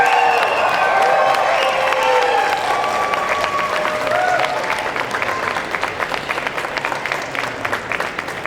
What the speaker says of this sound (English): A round of applause as we welcome our groom.